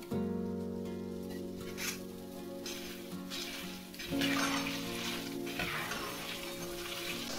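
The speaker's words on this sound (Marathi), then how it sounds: "हे आपण अर्धा किलो डाळ तळूया" Half a kilo of dal (lentils) frying in hot oil for Maharashtrian poha chiwda, a steady close sizzle and patter with faint stirring, no talking, running the whole time.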